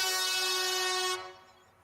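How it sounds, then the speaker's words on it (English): Sustained blaring air horn blast with a strong steady tone, loud and alone, cutting off abruptly after about a second and leaving faint room noise. "Air horn."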